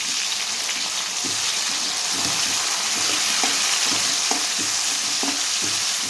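Tomato pieces from a home garden fry in a pan for a cluster bean biryani, giving a loud, continuous sizzle with scattered scraping and clicking from stirring throughout.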